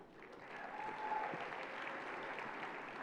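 Audience at a St. Ignatius College Preparatory graduation ceremony giving a soft, steady patter of applause in a large hall, heard from a distance and held fairly quiet.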